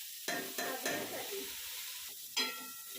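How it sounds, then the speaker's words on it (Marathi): Washed dried shrimp (sukat) frying in oil on a tawa, giving a soft crackling sizzle with a few sharp scrape or stir accents at the start and one more near the end, close and fairly quiet with no talk. "सुकट खूप छान तेलामध्ये परतली आहे"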